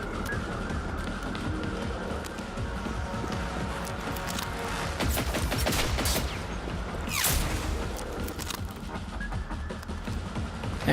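Heavy gunfire rattles in the game Generation Zero amid robot combat, with dense crackling shots, booming impacts and a sharp sweeping railgun blast cutting through the noise, all loud and continuous.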